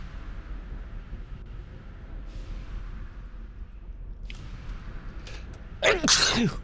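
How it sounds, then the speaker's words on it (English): A single sharp sneeze bursts out close to the microphone near the end, loud and sudden after a stretch of quiet background hum. "Oh, why am I sneezing now?"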